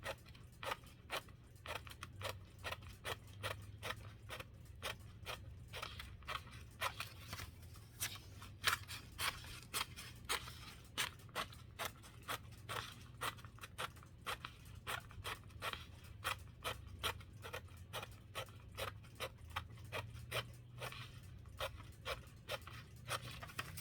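Scissors cutting through book pages for folded book art, heard as a close, quiet series of short snips repeating at a fairly steady rhythm throughout, with soft paper rustles between cuts and no talking.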